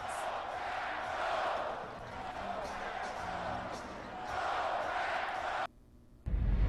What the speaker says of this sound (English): eventually leading him in "Go Pack Go" chants